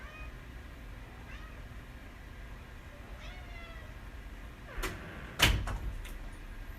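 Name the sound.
cat meowing and crying outside the door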